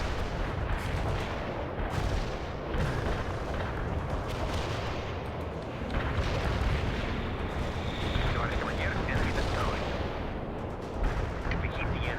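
Relentless artillery barrage in the Soviet Assault campaign of World in Conflict, with dense overlapping booms and gunfire forming a loud, continuous battle roar and voices faintly under the din.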